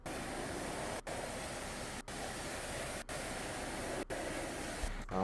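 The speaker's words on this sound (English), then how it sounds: "I'm just gonna do a quick spray down to make sure it's all out." A fire hose sprays water during a spray-down of a burned-out vehicle in the firefighting game EmergeNYC. The loud, constant hiss breaks off briefly about once a second.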